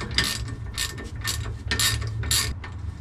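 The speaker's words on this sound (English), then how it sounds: "let's put that wrench on there, and we'll get them off here, no problem." A ratcheting wrench working loose the shock bolts on a Nissan Frontier, five quick bursts of rapid clicking in an uneven rhythm over a low steady background hum.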